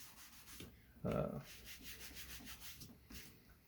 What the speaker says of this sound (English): You can rub scratches out of it with your thumb.